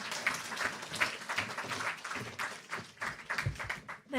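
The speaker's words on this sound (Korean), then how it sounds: "우리 나오실 때 박수로 우리 모시도록 하겠습니다." Audience applause welcoming a guest evangelist to the stage at a youth street-evangelism lecture, a moderate indoor patter of many hands clapping with some chatter underneath, loose and uneven for about four seconds.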